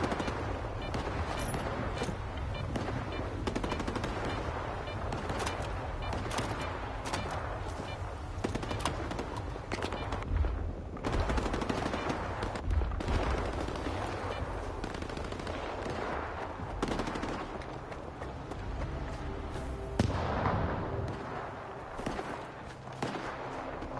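Gunfire in S.T.A.L.K.E.R. 2 rattles through the whole stretch in repeated bursts of automatic shots, some sharp and close, others more distant, over a constant rumbling background.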